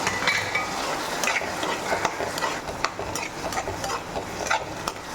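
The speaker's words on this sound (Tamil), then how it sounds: "இப்போது இந்த உருளைக்கிழங்கு பொரிச்சு எடுத்த உருளைக்கிழங்கு இதில் போட்டுக்கலாம்." Potatoes fried in oil left over from frying fish, stirred into a mashed onion, tomato and green chilli mixture, giving a continuous sizzle with quick scraping and clinking from a spoon against the pan, close by, with no voices.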